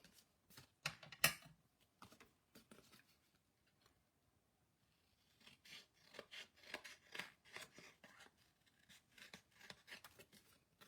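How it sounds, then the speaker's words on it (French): Scissors snip and slide along a cardboard edge while trimming masking material, giving repeated crisp rasping cuts in two bursts separated by a brief pause, close and fairly quiet. "Mes ciseaux, ils suivent vraiment la ligne du carton."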